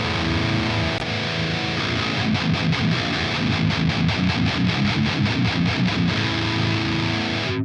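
A heavily distorted electric guitar through a metal amp simulator plays a chugging, rhythmic riff with thick low end, loud and continuous, ending abruptly.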